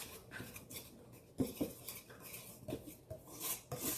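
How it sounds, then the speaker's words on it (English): Whisking pound cake batter in a bowl, with quiet rhythmic metal-on-bowl clinks and scrapes, close and faint, no talk. "Let's whisk it a little bit."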